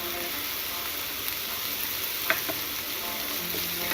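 Chopped green chillies sauteing in a pot for a spring onion sabzi, giving a soft, steady sizzle with a couple of faint stirring clicks, fairly quiet and continuous with no talking.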